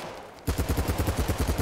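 Automatic gunfire from an AK rifle in the online shooter BattleBit, a rapid, steady burst of evenly spaced shots starting abruptly after a brief quiet moment and running loud and close.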